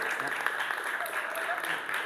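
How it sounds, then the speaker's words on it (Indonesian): A class applauds a student during a physical education lesson. The clapping is a soft, continuous patter from a small group of students that holds at an even level for the whole stretch. "Ya, tepuk tangan lagi untuk Dayat dan Ide bagus."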